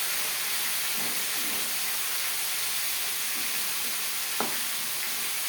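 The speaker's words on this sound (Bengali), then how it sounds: "প্রত্যেক ব্যাচের মাথা একইভাবে ভেজে নেব" Fish heads frying in a hot kadai for Bengali muri ghonto give a loud, continuous close sizzle and hiss with faint stirring scrapes and one brief knock.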